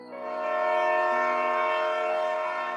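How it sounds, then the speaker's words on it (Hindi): A single sustained train horn blast from an approaching train, loud and steady, swelling in quickly and holding for a few seconds before easing slightly. "वेदा को ट्रेन के हॉर्न की आवाज सुनाई दी"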